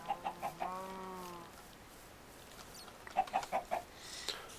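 Chickens in a video game cluck in short bursts, a quick series of four clucks with a drawn-out call, then a pause before another rapid cluster of clucks, fairly close and clear.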